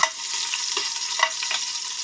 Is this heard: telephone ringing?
no